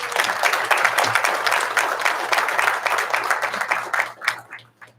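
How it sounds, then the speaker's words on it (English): Audience applause for students at a morning Top of the Shop skills competition and awards event, steady dense clapping from a crowd that carries on for several seconds before thinning out near the end. "Let's give them all one more round of applause."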